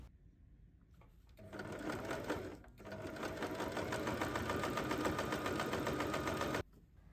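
Sewing machine stitching handbag flaps through a curved area, running at a steady fast rhythm for most of the clip after a brief hesitation, close and clear with no talk, then stopping abruptly.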